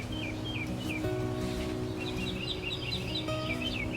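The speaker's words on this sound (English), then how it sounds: "listening to the birds chirp" Small birds chirp repeatedly outdoors in a cottage garden, bright quick tweets in loose clusters over a steady background drone, with no talking.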